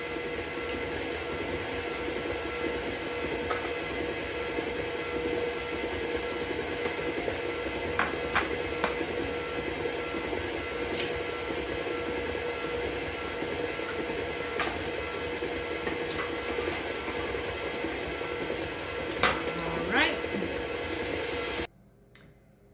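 An electric mixer whirs with a steady, continuous drone while blending lemon bundt cake batter, with a few faint taps and clicks over it before it cuts off abruptly at the end; no speech.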